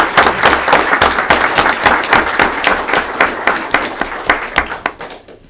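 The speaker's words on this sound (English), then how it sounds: "Give them a round of applause" Applause breaks out at a town council meeting, a room of people clapping steadily with distinct individual claps for several seconds before thinning out at the end.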